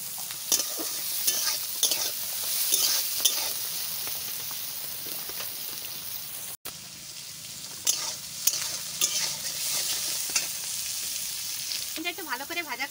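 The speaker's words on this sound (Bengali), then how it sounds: "একটু ভালো করে ভাজা করতে হয়, সয়াবিনটা ভালো করে ভাজা না করলে ভালো লাগে না" Soybean chunks fry in a pan for a vegetable tarkari while a spoon stirs them, giving steady sizzling with repeated scraping clatters throughout and a brief gap midway.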